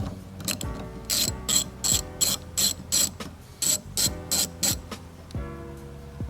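A socket ratchet backs off a 13mm bolt on the rear wiper of a Ford Fiesta ST in quick bursts of crisp, close clicking. About a dozen short pulls are separated by brief pauses, with no voices.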